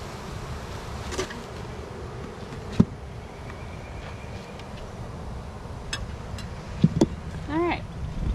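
Steady buzzing of honey bees fills the background, with a few sharp knocks and clicks and faint voices nearby.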